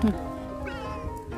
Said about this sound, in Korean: 길거리 고양이에요.